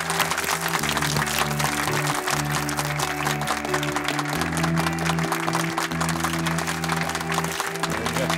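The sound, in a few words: audience applause welcoming a guest on stage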